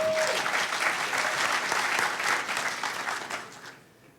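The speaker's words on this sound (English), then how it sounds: "everybody give Vladimir a huge round of applause" Audience applause at a hacker conference lightning talks session, a crowd clapping steadily for Vladimir as he takes the stage, sustained for a few seconds then tapering off.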